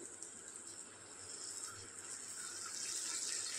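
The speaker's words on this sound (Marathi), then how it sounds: "अगदी थोडं पाणी घालते मी." A small amount of water is poured into a pan of cooked tomato, onion and spices for a home-style cauliflower and potato curry, making a faint, continuous trickling hiss that builds slightly toward the end.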